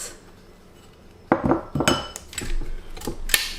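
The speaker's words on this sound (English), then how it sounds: "While mixing, don't forget to scrape down the ends, and after add the 2 eggs." Cake batter being mixed with eggs in a bowl for a carrot, pineapple and almond cake: a quiet start, then a burst of clinking and scraping utensil strokes against the bowl, close and irregular, no talk.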